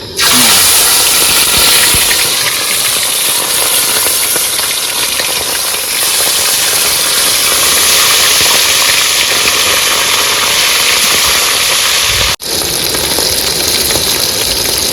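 Fish frying in hot mustard oil in a wok gives off a loud, dense, continuous sizzle that fills the whole stretch, close by, with one brief dip near the end.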